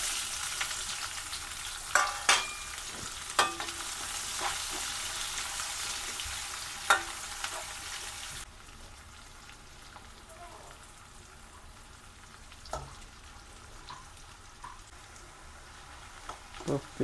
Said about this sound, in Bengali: তো পেঁয়াজটা আমাদের লাল লাল করে ভাজা হতে থাকুক, আমি দেখে আসি বাবান কি করছে।